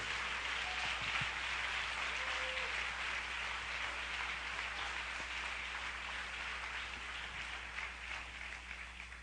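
Applause from a church congregation during a worship service, a steady, broad wash of clapping sustained throughout at moderate level with no talk over it.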